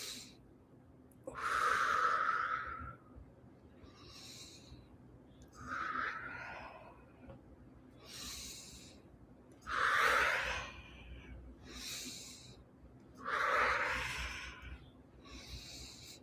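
Deep, slow breathing during breathwork practice, with long drawn inhales and exhales alternating at an unhurried pace, close and clear against a quiet background, several full cycles with no talking.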